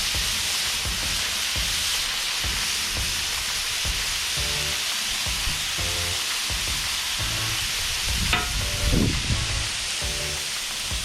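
Beef with minced garlic frying on a griddle for egg-free beef fried rice, a steady dense sizzle with repeated scraping and stirring strokes, loud and close throughout without talk.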